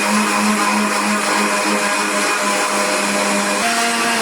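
Mixer grinder in a home kitchen grinding soaked batter into paste, a loud, steady motor whine with a constant hum, running alone throughout.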